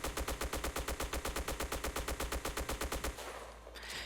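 Rapid automatic fire from a Type 95 rifle in a video game, a fast, even stream of loud shots for about three seconds, then stopping abruptly into a brief scraping tail.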